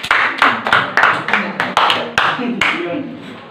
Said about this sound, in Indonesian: Kepada kelompok Matius kita berikan tepuk tangan.